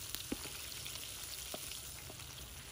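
Chicken pieces frying in hot oil at a campsite, a steady low sizzle and crackle running throughout, with a few sharp pops of spattering oil standing out near and moderately loud.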